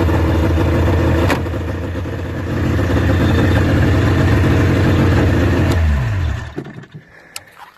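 A 1996 Formula III 600 snowmobile engine runs close by with a steady, buzzing mid-pitched drone. It then shuts off, winding down in a falling whine before fading to near silence with a few faint knocks.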